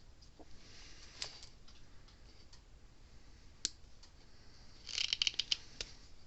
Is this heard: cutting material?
yes